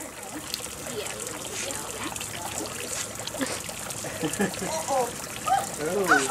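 Warm water sprays from a shower head onto a small wooden platform, a steady hissing trickle and splash close by, with voices and a child's vocal sounds over it.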